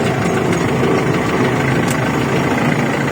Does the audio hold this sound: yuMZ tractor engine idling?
yes